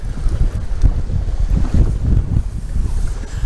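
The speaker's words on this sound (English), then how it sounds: "That wind has picked up." Strong wind blows outdoors on a December catfishing trip by the water, buffeting the microphone with loud, continuous low rumbling gusts throughout.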